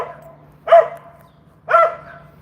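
A dog gives two loud, sharp barks close by, about a second apart, over a faint steady background hum.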